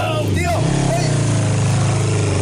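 A motorcycle engine runs loud and close with a steady throbbing idle, while someone talks over it.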